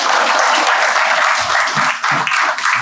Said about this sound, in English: One good clap for him.